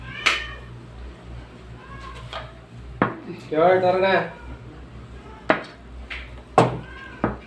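Several short meows from cats come and go nearby, mixed with clinks of dishes and a brief spoken voice in the middle.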